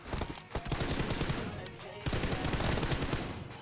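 Rapid bursts of automatic gunfire from PUBG Mobile, loud and close, with dense repeated shots filling almost the whole stretch and a brief gap near the middle.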